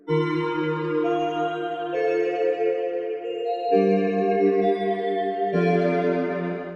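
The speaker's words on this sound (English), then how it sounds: "I am going to use another kind of like weird pad stringy sound." A sustained, warm synth pad with a string-like texture, the Native Fantasy preset in Pigments, plays slow held chords that shift every couple of seconds, with no talking.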